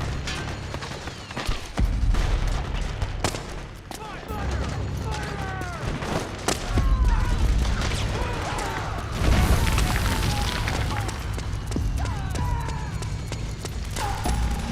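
Rapid gunfire bursts and booming shots from Metal Gear Solid 4: Guns of the Patriots on PlayStation, sustained and loud across the whole stretch, with voices shouting commands over the combat.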